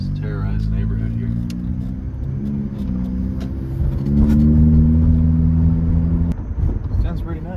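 Honda K24 engine driving at night, a loud raw intake roar and droning exhaust that shifts pitch with throttle changes, with people talking over it.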